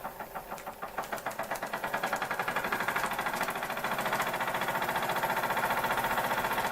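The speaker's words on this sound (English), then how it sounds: "What an amazing engine." A Märklin model steam engine with a generator runs steadily, its fast regular chuffing and mechanical knocking close up and gradually quickening, with no voices.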